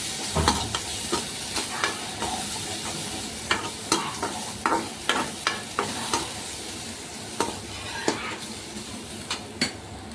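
Ingredients sautéed in hot oil in a pan for a stalk-greens stir-fry, a steady sizzle broken by a regular run of sharp scrapes and clinks from the stirring spoon against the pan, close and fairly loud, with no talking.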